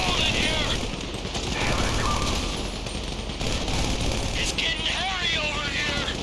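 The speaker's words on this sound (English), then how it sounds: "You hear that gunfire?" Continuous gunfire in a GTA 5 shootout, rapid automatic bursts layered into a loud, dense wall of shooting with no break, and shouted voices over it.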